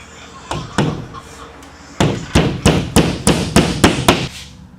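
Hammer blows driving nails into a wooden wall stud while framing for drywall in a woodworking shop: a few scattered strikes, then a steady run of about nine loud, evenly spaced close-up bangs.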